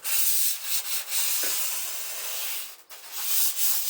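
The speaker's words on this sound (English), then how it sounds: "you can see like little problems with it, and the sanding takes them away" Sandpaper rubs over paint on the roof of a Citroen C4 Grand Picasso, a close, steady rasping hiss in long strokes with a brief pause near the end.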